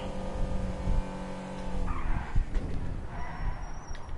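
A hybrid car with a single-gear CVT drives in the GTA video game, its engine holding a steady drone while the tires squeal and skid in a few bursts, loud and close, with no talk.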